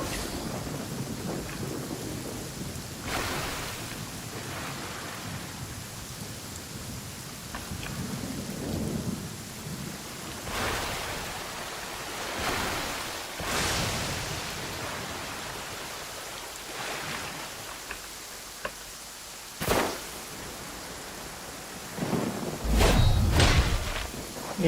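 Genshin Impact thunderstorm: continuous heavy rain with repeated thunder cracks and rolling rumbles at irregular intervals, a sharp close strike near the end.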